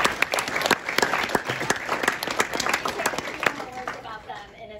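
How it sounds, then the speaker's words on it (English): Steady audience clapping fills the room at a medical school event, dense and continuous, with a few sharper claps standing out near the start before it tapers off. "let's give them a clap."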